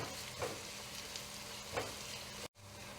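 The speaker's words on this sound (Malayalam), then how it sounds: "ആ പേസ്റ്റ് ഇട്ട് കൊടുക്കുക. എന്നിട്ടൊന്ന് ആ പച്ചമണം മാറുന്ന വരെ ഒന്ന് മൂപ്പിച്ചെടുക്കുക" Ginger garlic paste fries with onions in a pan under a constant faint sizzle, with two soft stirring scrapes and a brief dropout near the end.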